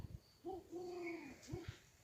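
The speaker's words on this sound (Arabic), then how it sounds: "حمامة الولاد" A pigeon gives low, soft coos in an abandoned place, one short note and then a longer drawn-out one, faint and fairly close. A few quiet thumps come before and after.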